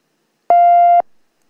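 A single pure low tone of the kind that forms the lower half of a telephone keypad signal, played alone, holds steady and loud for half a second, then stops abruptly with a short fading tail.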